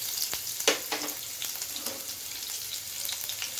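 Green chillies sizzle in hot oil for vada pav, a close, steady frying hiss broken by sharp crackling pops and a bit of stirring, with no speech.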